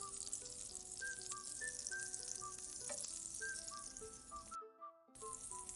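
Onions sauté in a pan and give off a quiet, steady sizzle, while light background music plays over it. There is a short drop to silence near the end.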